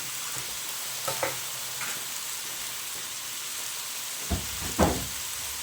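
Corned beef cooking with cabbage in a pan: a steady sizzle and frying hiss, with a few louder stirring scrapes near the end.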